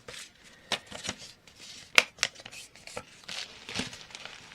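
Paper is torn and folded up near the listener, heard as bursts of crinkling and rustling with a few sharp ripping tears, all fairly quiet.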